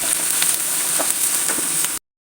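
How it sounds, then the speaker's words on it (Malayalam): Green chilies, ginger and curry leaves sauté in hot oil in a pan for a beetroot and date pickle, a steady close hiss of sizzling that runs unbroken for about two seconds, then stops. "പച്ചമുളക് ഇട്ട് കൊടുക്കുന്നുണ്ട് കറിവേപ്പില ഇട്ട് കൊടുക്കുന്നുണ്ട് ഇനി ഇതൊന്ന് വഴറ്റിയെടുക്കാം"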